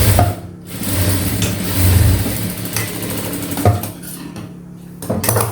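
A sewing machine runs steadily while a blouse is being stitched, laying a seam over an earlier row of stitches, with a loud continuous whirring hum that pauses briefly and resumes.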